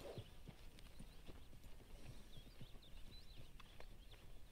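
Horse hooves clopping in the video game Red Dead Redemption 2, a steady, quiet rhythm of hoofbeats at a walking pace over faint outdoor ambience with occasional birdsong, no talking.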